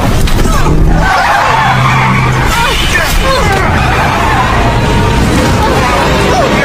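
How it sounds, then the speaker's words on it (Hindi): A car skids out of control with loud tire squeal and engine noise, sustained and close, ending in a crash against a roadside tree, with voices babbling underneath. "कार अनियंत्रित होकर पास के पेड़ से टकरा जाती है"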